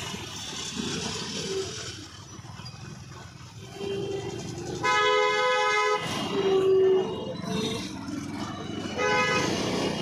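Car horns honking repeatedly in heavy Wagholi street traffic, several toots overlapping at close to middle distance over a steady roar of engines.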